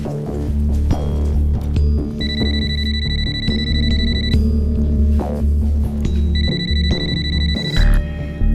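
A landline telephone rings in a home in two bursts of electronic ringing, each lasting about two seconds, over steady background music and room noise.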